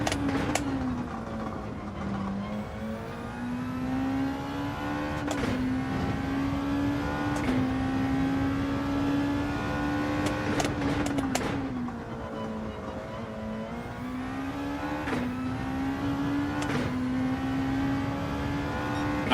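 A Gran Turismo 7 racing car engine, a Gr.2 Honda NSX, drones at high revs, its pitch rising and dipping through gear shifts and corners, with a few sharp clicks over the steady roar.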